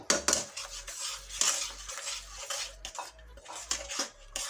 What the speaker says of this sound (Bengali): এখন সুন্দর মতো এটা কষানো হবে